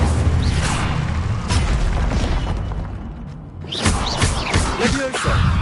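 Incendio fire spell cast in a magic video game, heavy thuds and whooshing bursts with a brief quieter gap before another flurry of impacts, loud and close.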